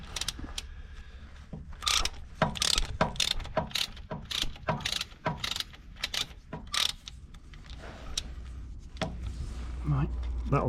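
A ratchet works a bolt loose under a Land Rover Discovery 3 during front air spring and differential work, giving bursts of rapid clicking and metallic knocks spread across the clip, with a voice talking at times.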